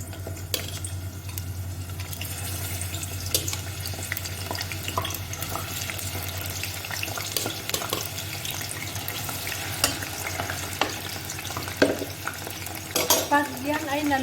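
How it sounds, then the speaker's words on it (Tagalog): Eggplant fries in hot oil with a steady sizzle and bubbling, joined by repeated scraping and clinking of a utensil against the pan that grows busier toward the end. "Iprito na natin ang ating talong guys."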